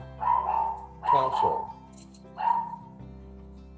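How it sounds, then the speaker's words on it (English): A dog barks several times in short bursts somewhere in the background of a home, the woofs fairly faint and spaced out, with a brief word of talk overlapping. "And that's my dog in the background there."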